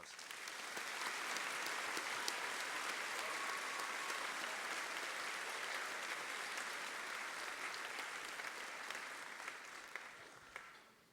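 A high school senior awards assembly crowd gives students a sustained round of applause, dense even clapping heard from a distance that holds steady for about ten seconds and then tapers off.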